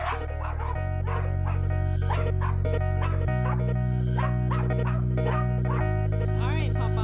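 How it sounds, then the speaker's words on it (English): Popeye the dog barks repeatedly in quick yips and bow-wows, close by, over the steady high buzz of a small camera drone lifting off, with a voice speaking briefly. "Popeye's gonna bark"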